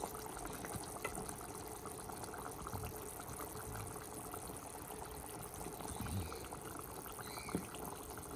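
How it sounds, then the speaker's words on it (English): Thick egg curry gravy poured over boiled eggs in a home kitchen gives a soft, steady liquid wash, with small splashes and gentle clinks along the way. "pour the gravy on top of the egg like this."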